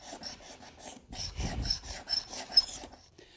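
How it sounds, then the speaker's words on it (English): A hand scraper drags across an old wood floor, stripping the worn finish in a run of close, rasping strokes, with a heavier, fuller pass near the middle. "I've switched to a smaller scraper"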